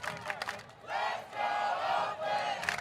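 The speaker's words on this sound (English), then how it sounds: "I think you are now hearing this crowd come alive for the first time this season." Baseball stadium crowd at a Missoula Paddleheads versus Oakland Ballers championship game roars and cheers in sustained loud swells after an early home run with two men on, with brief dips between waves.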